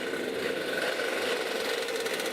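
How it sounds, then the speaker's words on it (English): A field of racing karts at a Llandow kart race revving up together, a dense, continuous buzzing engine drone held at steady loudness throughout, no voices. "Firing up their engines."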